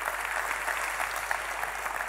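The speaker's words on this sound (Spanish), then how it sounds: "Fuerte el aplauso, por favor." Audience applauding the mayor at an awards gala in Fuerteventura, dense steady clapping from a seated crowd at moderate volume throughout.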